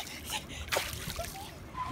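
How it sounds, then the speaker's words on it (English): A child splashes in a resort swimming pool, with scattered sloshing splashes and bursts of water, while voices talk and call out close by. "Don't splash"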